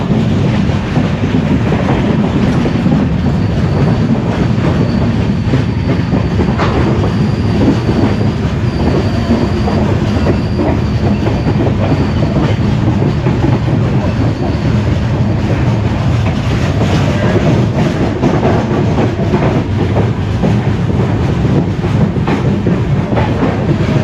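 Ratnagiri–Diva passenger train arriving at Chiplun station, loud and close from on board: continuous rolling wheel noise and rattling carriages, a thin drawn-out squeal from the wheels midway, no talk.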